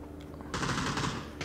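A UMP submachine gun fires a short, rapid burst in PUBG, loud and close, with a brief pause before a second burst begins.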